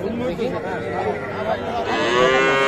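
Several calves and young cattle moo at a rural livestock market in Ambari, with overlapping drawn-out calls close by over a steady crowd murmur.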